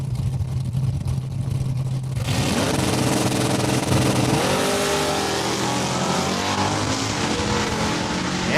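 Drag race cars launch off the starting line at Saskatchewan International Raceway, a sudden loud roar erupting after a quieter idle and holding as a sustained, rising engine howl.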